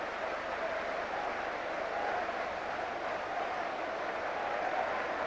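Steady, sustained applause from a large stadium crowd at the 1996 FA Charity Shield football presentation, Manchester United versus Newcastle United, a dense even wash of clapping throughout.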